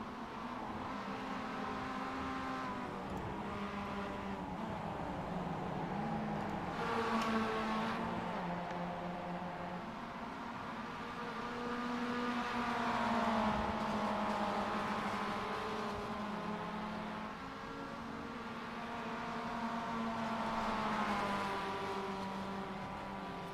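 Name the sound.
Mazda MX-5 race car engine at Suzuka, sim racing video game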